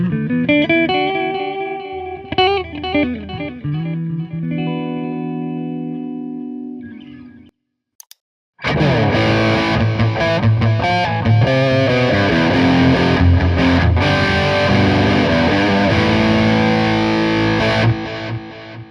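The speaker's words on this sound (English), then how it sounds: "What we were listening to was the sound of the delay through the effects loop" An electric guitar played through a Peavey Invective.112 amp, with a delay pedal in the effects loop, rings out in distorted, echoing phrases. It cuts off briefly to near silence, then returns dense and sustained, loud and without any voice.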